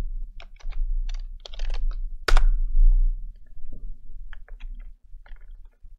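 Someone types a new folder name on a computer keyboard in quick bursts of close, crisp key clicks, with one louder thump partway through and short pauses between runs.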